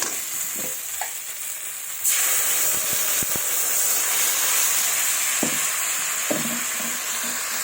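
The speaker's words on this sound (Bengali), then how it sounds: "এই যে তো আমার ভাজা হয়ে গেছে মশলাটা ভালোভাবে পাকানো হয়ে গেছে" Steady loud sizzling of spice paste frying in a pan, with a few soft clinks of stirring; no voices.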